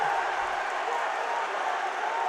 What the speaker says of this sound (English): And the crowd is letting them know it.